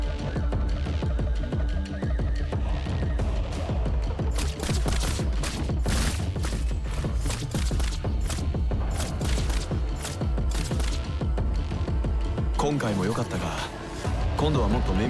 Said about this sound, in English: Cap, what was that explosion?